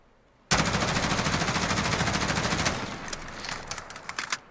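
An LVOA-C assault rifle fires one long, loud sustained burst in Call of Duty Modern Warfare, a rapid rhythmic stream of shots followed by a few scattered single shots and fading echoes.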